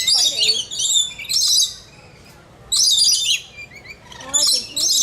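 Birds at a wild animal park squabble with loud, shrill chirps and calls in several bursts that come and go against a steady outdoor background.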